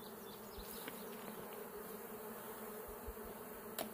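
Aggressive honey bees buzz around honey supers during a harvest, a continuous dense hum close by with a few faint knocks and clicks.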